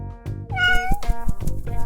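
A cartoon cat gives a drawn-out, rising-and-falling meow, close and clear, preceded and followed by short soft thumps and chirps from the animated scene.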